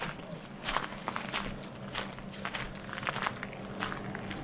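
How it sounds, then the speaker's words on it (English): Footsteps crunching across stones outdoors with light wind, a steady series of soft, close irregular steps. "Now I'm just going to walk across some stones"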